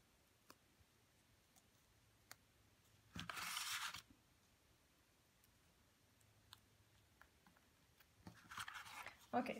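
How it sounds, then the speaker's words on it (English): Scissors snip through pieces of foam tape during card making, two short bursts of cutting in a quiet room with sparse small clicks. "So I'm going to cut a few pieces here."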